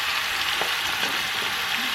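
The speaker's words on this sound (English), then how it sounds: "I am going to go ahead and throw all my mixture into this pot" Curry chicken mixture hitting a hot Dutch pot, sizzling and frying steadily with a bright, even hiss throughout, close and fairly loud, with no talking.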